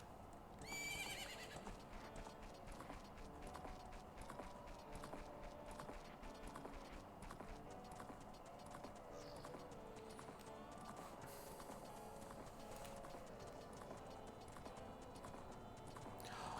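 A horse neighs and whinnies in The Legend of Zelda: Ocarina of Time while steady clip-clopping hooves keep a rhythm, set against continuous game music and ambience at moderate volume.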